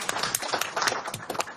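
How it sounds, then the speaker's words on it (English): Brief round of applause at a borough council meeting, a short burst of clapping from a small group, close and moderately loud. "we want to give a round of applause to the chief who missed the car show"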